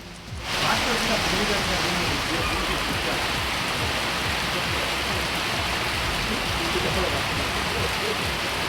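Steady heavy rain pours down in Devanahalli, Bengaluru Rural, a dense unbroken hiss of drops on surfaces that starts abruptly and stays loud throughout.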